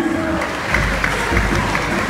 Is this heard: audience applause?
yes